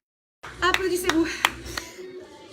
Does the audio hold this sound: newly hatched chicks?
no